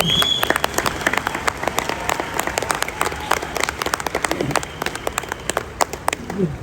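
An audience applauds at a Mi Lifestyle stage event, with many hands clapping in a close, uneven patter that carries on steadily and is interspersed with sharper individual claps.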